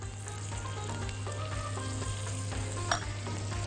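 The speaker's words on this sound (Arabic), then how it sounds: "لما نحط البهارات كده مع البصل والثوم وهو بيتشوح" Onions, sliced garlic and spices such as seven-spice, turmeric and black pepper sautéing in a pan, a steady close sizzle with a few soft stirring scrapes, no talking.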